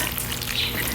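Macaroni salad being stirred and mixed in a bowl, a steady, close, wet shuffling noise that runs unbroken for about a second with no talking.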